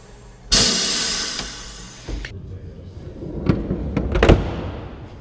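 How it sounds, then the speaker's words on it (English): A strong burst of MiG-15 jet fighter pneumatic brake hiss lasts almost two seconds and cuts off sharply, followed by a few scattered mechanical clunks and knocks. "I think the principal most interesting thing is those pneumatic brakes"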